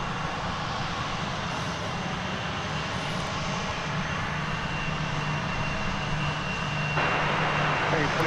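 A United Airbus A319, a 1998 airliner, arrives from Denver at DFW Airport with a steady, broad engine roar. A faint hum runs beneath the roar, and the sound stays even throughout.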